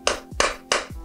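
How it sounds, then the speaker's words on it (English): Three sharp taps of a plastic hammer on the metal ears of a Toyota Tacoma U-joint, evenly spaced about a third of a second apart, each with a brief ringing decay, close up. "I'm going to take my plastic hammer and then just tap"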